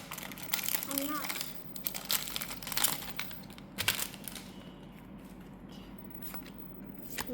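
A Pokemon card pack wrapper is pulled open in bursts of close crinkling and tearing foil over the first few seconds, with quieter rustling afterward as people talk around it.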